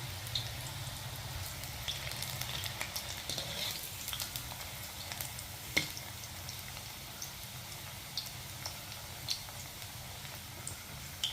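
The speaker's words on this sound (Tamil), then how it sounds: "கட் பண்ண சக்கரவள்ளி கிழங்கு பீஸுங்களை இதில் போட்டு பொரித்து எடுக்கிறோம்" Cut sweet potato pieces deep-fry in hot oil over a medium flame, a faint steady bubbling sizzle with scattered small ticks and pops.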